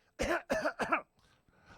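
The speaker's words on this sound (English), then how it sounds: "I'm coughing because of the allergens" Three sharp, close allergy coughs in quick succession, followed by two fainter throaty coughs.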